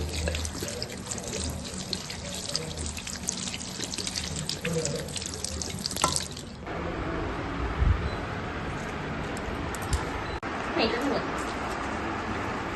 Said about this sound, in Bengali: পাতাগুলো এখন ধুয়ে নিই